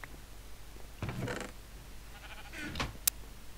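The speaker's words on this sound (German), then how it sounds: "Der Schaf steht da schon wieder." Sheep bleating in the video game Minecraft, a couple of short bleats in the middle, fairly faint over a quiet background with a click at the end.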